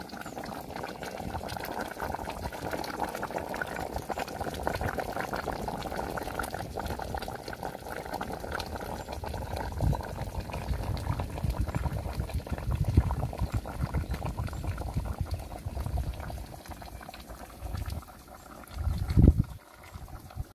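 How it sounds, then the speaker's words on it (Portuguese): Rice and beans boil in a pot in a home kitchen, giving a steady, close bubbling and seething that runs the whole time, with a few louder pops and thumps near the end. "aí já coloquei o arroz e o feijão aqui pra ir fervendo"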